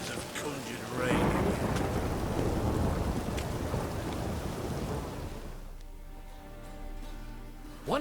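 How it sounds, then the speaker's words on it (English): Rain and rumbling thunder in The Witcher 3, a steady wash of downpour with a deep roll of thunder, fairly quiet and partly under game music and voices. "Witches have conjured rain."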